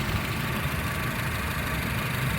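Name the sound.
Honda Civic FD1 2008 engine idling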